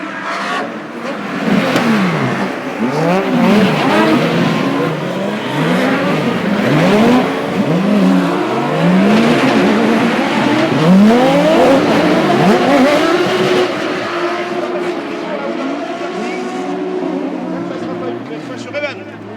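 Race cars competing in an Andros Trophy ice race, engines revving and swooping up and down in pitch as several cars pass in quick succession, loud and continuous, with commentators talking over the action.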